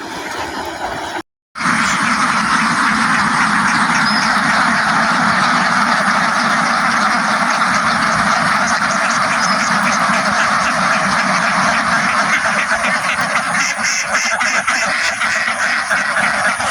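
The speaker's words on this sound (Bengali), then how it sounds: "এটা হচ্ছে ভাসমান পদ্ধতিতে হাঁস চাষের অন্যতম উদাহরণ" Domestic ducks kept in an enclosed floating farm pen at night quack continuously and densely from near range, a steady flock chorus filling the whole stretch after a brief dropout near the start.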